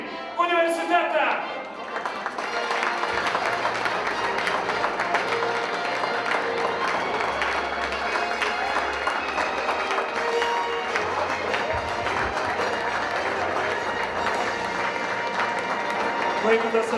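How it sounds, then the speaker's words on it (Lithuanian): A crowd applauds steadily for the second-place team, LCC International University of Klaipėda, at a basketball awards ceremony, sustained clapping and cheering filling the hall with a low hum beneath. "Klaipėdos LCC, tarptautinis universitetas, negailėkime aplodismentų"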